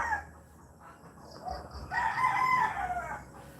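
Free-range chickens of several varieties on a farm in the Philippines, with a rooster crowing loudly midway and hens clucking around it, heard at moderate distance over a quiet outdoor background.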